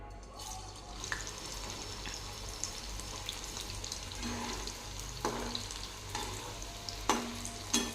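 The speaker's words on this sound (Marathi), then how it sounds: "आपण तेल गरम करून घेतलेलं आहे यामध्ये मंदा आचेवर तळून घेऊ" Phas leaf vadi frying in hot oil over a low flame, giving a steady soft sizzle throughout with occasional stirring clinks and light scraping sounds.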